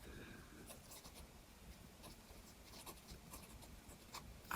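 Platinum Curidas fountain pen with a medium nib scratching across paper in short, faint strokes, very quiet and close.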